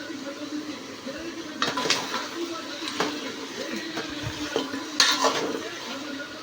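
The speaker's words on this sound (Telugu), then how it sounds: "ముక్క మంచిగా ఫ్రై అయ్యేటట్టు అయింది" Goat tripe (boti) fries in a pan with ginger and turmeric, giving a soft steady sizzle with occasional sharp scrapes of a utensil stirring against the metal.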